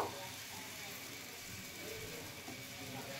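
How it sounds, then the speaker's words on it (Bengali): Vegetable-laden atta batter spread on a hot pan hisses with a faint, even sizzle that holds steady and quiet the whole time. "এবারে আমি 1 হাতা ব্যাটার দিয়ে দিচ্ছি, এইভাবে ছড়িয়ে দেব।"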